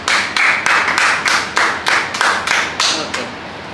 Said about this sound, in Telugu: క్లాప్స్ కట్టుకోండి.